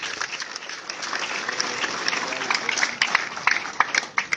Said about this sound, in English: ask all of us here to put up and to give a thunderous hand clap